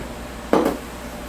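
A plastic top pressed back onto a homemade pineapple wine fermenter fitted with a water-filled burper airlock gives one short, close clunk of plastic, then quiet.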